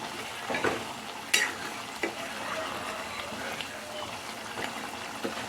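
Curry is stirred in a sizzling pan, with soft, intermittent scrapes and clinks of a utensil against the pan over a low frying hiss.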